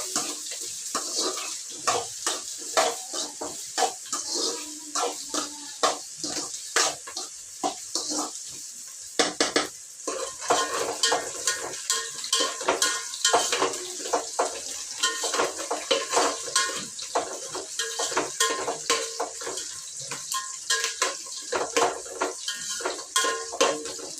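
Ingredients for bagara rice fry and sizzle in a pan while being stirred, with a steady hiss and repeated scraping clinks of the spoon running close and continuous throughout.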